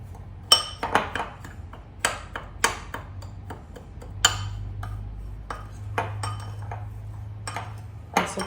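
Spoon stirring cake filling in a mixing bowl, a series of sharp clinking and tapping hits at an irregular rhythm, close and clear with a low hum underneath.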